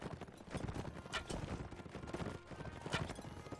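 Horses galloping in Mount & Blade: Warband, rapid clip-clop hoofbeats with occasional whinnies and scattered battle noise, steady and moderately loud with no talking.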